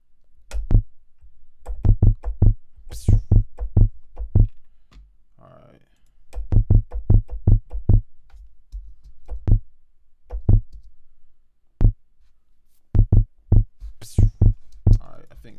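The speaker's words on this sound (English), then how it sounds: "It's cool, pretty cool kick." Punchy kick drum built from a vocal sample in Ableton Live, struck in quick rhythmic bursts of close, loud hits separated by short pauses, with no talking.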